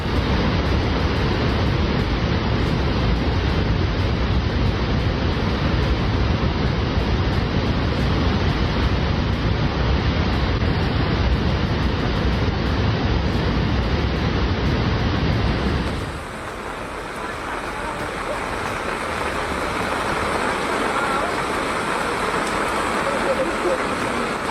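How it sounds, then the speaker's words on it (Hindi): Heavy roaring waves during a storm surge of monsoon flooding pound continuously as a dense, loud rush of water for about sixteen seconds before cutting to a thinner, hissing wash of surf. "कहीं गरजती लहरें तांडव कर रही"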